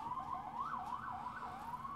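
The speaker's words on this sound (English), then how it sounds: "there is healing, is what the sirens are saying" An emergency vehicle siren wails up and down in a steady sweep, moderately distant, heard alone with a faint low background hum.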